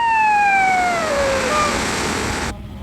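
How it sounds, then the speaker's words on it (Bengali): An ambulance siren wails loudly at first, its tone sliding downward as the vehicle passes, then fades into road noise before the sound cuts off abruptly near the end. "এই অ্যাম্বুলেন্স আসতেছে।"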